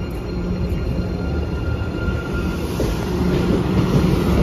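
A train rumbles past nearby at Revere Beach, a loud steady roar of wheels on rails with faint squealing and clacking.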